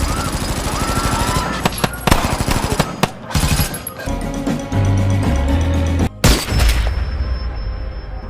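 Heavy automatic gunfire and blasts fill a massacre scene in the film Sniper: Rogue Mission, loud continuous bursts with a few abrupt cuts and booms.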